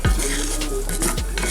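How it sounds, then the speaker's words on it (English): Shrimp stirred in olive oil in a skillet sizzle steadily, with a continuous hiss and the scrape of a utensil against the pan coming through close and loud. "I use a little olive oil, and I just stir it around in the skillet."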